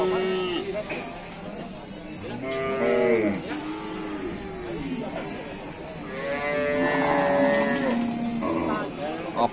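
Local jumbo cattle at a livestock sale moo loudly and repeatedly close by, with long drawn-out calls rising and falling while voices murmur in the background.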